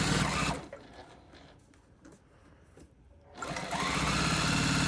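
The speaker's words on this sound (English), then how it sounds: "Sewing." A sewing machine stitches skirt fabric to elastic, running loudly and alone at first, then pausing to near quiet for about three seconds before starting up again at full speed.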